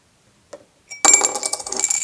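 A coin put down on a table lands after a couple of faint taps, then rings and rattles as it settles, close and clear with no talking.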